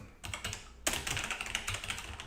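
A computer keyboard is typed on during a programming lecture, with close, fast irregular keystrokes that are quiet overall and carry no voice.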